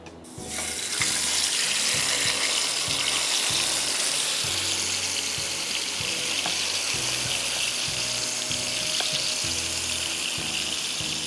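Fish frying in a pan of hot oil gives a steady, close, loud sizzling hiss with faint crackles. The sound is continuous throughout, with no talking.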